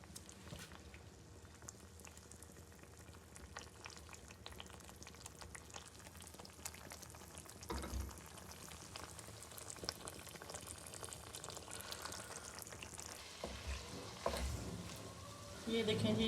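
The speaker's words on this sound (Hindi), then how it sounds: "अरबी डाल के इसको हिला लेंगे अच्छी तरह, इसको भुनेंगे।" Arvi (taro root) masala sizzling and crackling in hot oil in a pan as it is stirred, a steady frying hiss throughout with occasional louder scrapes and clanks of a spoon.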